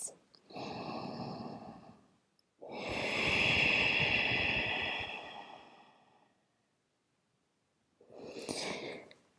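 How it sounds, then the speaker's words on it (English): Deep, slow breathing during a yoga rebound pose, three long breaths with audible inhales and exhales, fairly close, separated by short pauses and no talk. "Deep breaths."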